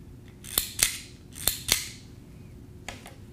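A handheld fiber optic connector cleaner gives four sharp mechanical clicks in two quick pairs, then a softer double click, crisp and close in an otherwise quiet room.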